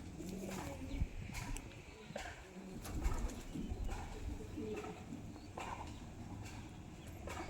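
Pigeons coo softly and repeatedly at close range, with low throaty calls over light rustling and background noise.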